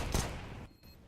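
A gunshot in the video game Counter-Strike: Global Offensive on the Mirage map, a single loud, sharp burst near the start that rings out briefly and fades into quieter game ambience.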